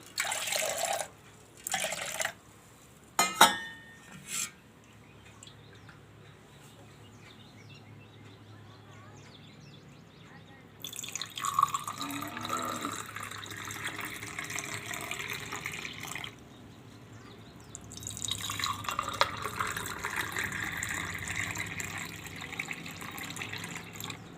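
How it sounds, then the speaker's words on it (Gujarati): Water pours over ice into a glass in two longer bursts, a steady splashing fill, after some brief clinks and taps at the start. "થોડુંક આપણે આમાં પાણી નાખશું"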